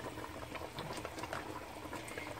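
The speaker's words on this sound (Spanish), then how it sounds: "aquí está mi carne. Está hirviendo." Pork ribs boiling in a pot on the stove, a steady dense bubbling and popping with soft wet gurgles throughout, close and continuous with no talk.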